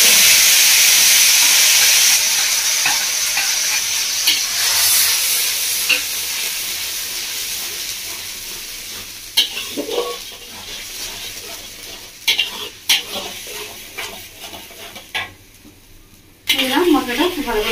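Spices fried together with onion, tomato, ginger and garlic in a pan give a loud steamy hiss that fades over time, broken by spoon stirring and scraping, with occasional bursts of bubbling near the end.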